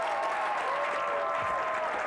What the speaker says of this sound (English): Please give a big round of applause for Mr. Dave Russo.